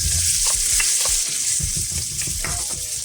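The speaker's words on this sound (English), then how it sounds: "Fry this up for a minute or two." Diced Spam sizzles and crackles in hot oil in a pan for fried rice, a loud continuous frying hiss with occasional stirring scrapes, no voices.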